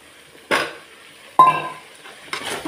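Cut vegetables are added to ground masala in a pan for kara kuzhambu and sautéed, with three distinct metallic clinks and scrapes of a spoon against the pan over a faint background.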